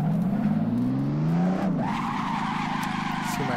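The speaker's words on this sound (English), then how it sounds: "See my tires lock up in the back." Rear tires lock up and skid in Assetto Corsa, a loud, close tire squeal over a steady engine drone that bends sharply midway and then carries on with a smoother, sustained screech to the end.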